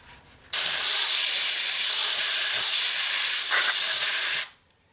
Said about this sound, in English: Sprayed WD-40 on it, let it sit a little bit.